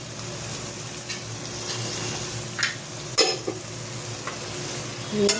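Taro leaves sizzle steadily in a hot pan with salt and turmeric, a spatula scraping and clinking now and then against the metal, close and continuous with no talk.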